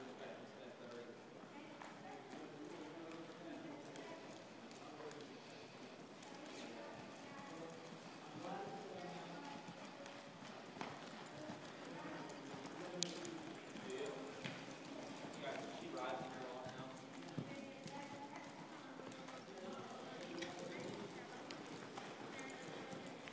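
A ridden horse lopes over ground in a riding session, faint rhythmic hoofbeats going on throughout, heard at a distance under a person talking.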